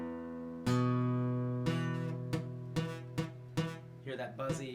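Several guitar notes are plucked in sequence, with a buzzy, rattling quality on some, the later ones coming quicker and choppier.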